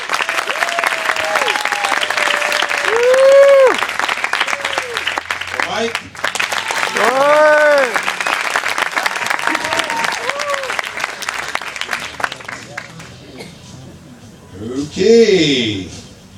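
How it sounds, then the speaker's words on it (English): An audience applauds at a live creativity contest, with steady clapping running through most of the stretch while people speak over it, then swelling briefly again near the end. "So let's have your round of applause for Tina."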